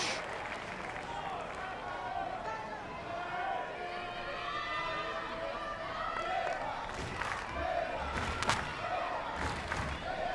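Little league baseball crowd at a game in Warner Robins, a lively mass of voices and cheering with scattered thuds, steady and fairly close throughout, with a brief louder burst near the end.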